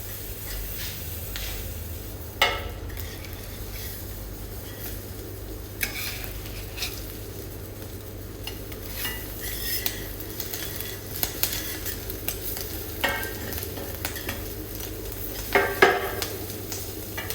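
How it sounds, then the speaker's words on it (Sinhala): Bacon grilling in a pan for an English breakfast makes a soft, continuous sizzle with occasional utensil taps and scrapes over a low steady hum, no talking. "බේකන් එක නම් වැඩි වෙලා ග්‍රිල් කරගන්න ඕනේ නැහැ."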